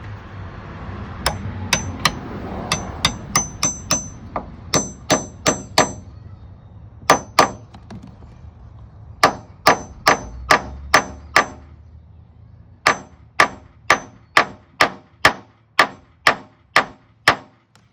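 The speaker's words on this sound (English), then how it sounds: "Okay, so now I'm going to try to remove these liners. These are the old liners that are in here." Repeated sharp metallic hammer strikes ring out in quick clusters and steady runs, with pauses between, as a kit tool drives old corroded door hinge liners out of a Jeep JK.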